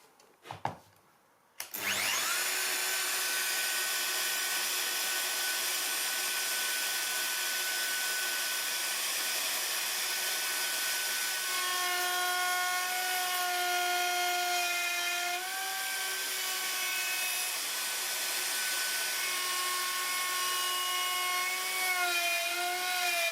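A router cuts wooden door uprights along a template for a TV cabinet and bookcase. After a brief quiet moment it spins up to a loud, steady whine with a shifting pitch that continues to the end.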